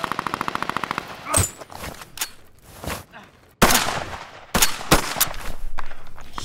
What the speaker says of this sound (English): You can't just have a rifle sound effect.